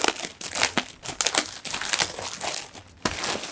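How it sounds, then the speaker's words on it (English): Plastic wrap around a trunk mat for a Tesla Model 3/Y being pulled open from the side, a run of close, sharp crinkles and crackles in irregular bursts with brief pauses, no talking. "It comes in this plastic wrap, which I guess you just kind of open up from the side here"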